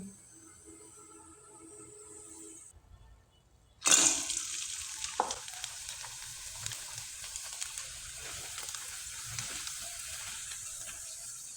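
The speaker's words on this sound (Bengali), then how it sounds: "আমি এভাবেই কয়েকটা পিঠা আপনাদের ভেজে দেখিয়ে দিচ্ছি" Pitha cakes made from leftover rice drop into a little hot oil, which bursts into sudden close sizzling after a quieter stretch and keeps crackling steadily, with small pops and occasional handling noises.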